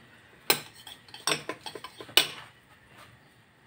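Metal utensils clink sharply against a pot while ingredients are stirred together: three bright strikes with a quick run of lighter taps between them, close and clear with no talk.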